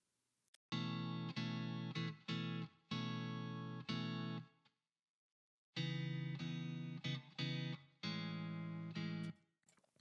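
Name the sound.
Stratocaster electric guitar track with a little reverb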